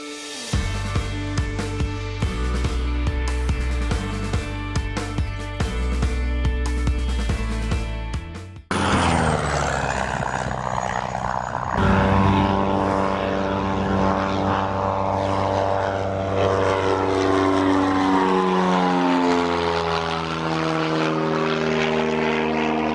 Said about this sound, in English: As we see this aircraft coming in for a landing. Or a low pass, one or the other.